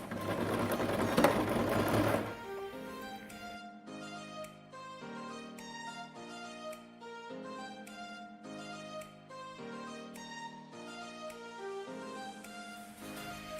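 A sewing machine runs short bursts of forward and reverse stitches on a pair of trousers, its motor whirring in close, distinct stop-start runs after a brief louder rustle at the start, with no talk.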